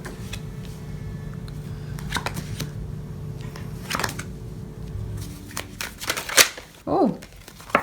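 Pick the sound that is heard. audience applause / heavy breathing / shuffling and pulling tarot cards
shuffling and pulling tarot cards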